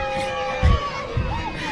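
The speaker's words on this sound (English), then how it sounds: "crowd voicing their displeasure there for Javen" A wrestling crowd at a brewery show voices displeasure with loud booing and shouting, swelling in two short bursts over a steady crowd din.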